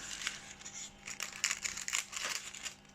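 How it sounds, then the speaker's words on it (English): Scissors snipping through thin nail art foil, with quiet crinkling and a few sharp cuts close up in a still room. "So I'm going to cut some of this foil off, just so it's easier to use."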